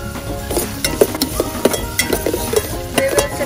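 Cream goes into a hot pan of onions and is stirred, giving a steady sizzle with repeated scraping and light clinks of a utensil against the pan, close and moderately loud with no talking.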